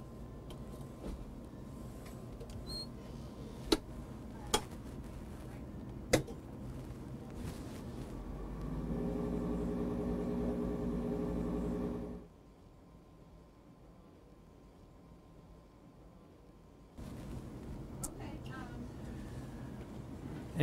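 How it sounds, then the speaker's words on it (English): A lab centrifuge spins tubes of blood sample, its motor rising into a steady whirring hum with a tonal whine for a few seconds before cutting off, after faint clicks in a quiet room. "And then we'll spin those down for 30 seconds in the centrifuge."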